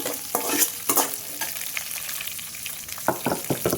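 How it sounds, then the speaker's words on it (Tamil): Onions frying in hot oil for a tomato sambar tempering sizzle steadily close by, with repeated sharp scraping and stirring strokes of a utensil against the pan. "இப்போது ஆனியன் போட்டுக்கலாம்."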